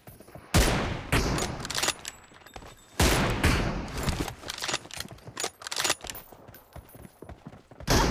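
Rapid gunfire in an online shooter game, bursts of sharp shots in clusters with brief gaps, loud and close, with scattered lighter impacts and footsteps between volleys.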